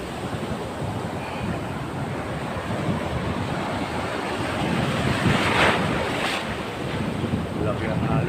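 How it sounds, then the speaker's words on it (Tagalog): Big ocean waves and strong wind at sea from a boat on a lobster-catching trip, a loud steady roar of surf and wind buffeting the microphone, with a few surging crashes near the end. "Laki ng alon, guys."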